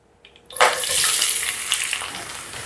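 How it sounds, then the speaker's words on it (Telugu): Chopped onion pieces drop into hot oil, setting off a sudden loud sizzle that swells and holds as a bright crackling hiss, close up with no talking, for a Rayalaseema-style spicy egg curry. "ఆయిల్ వేడైందండి ఇప్పుడు కట్ చేసుకున్న ఈ ఉల్లిపాయ ముక్కలు వేసుకుందాం"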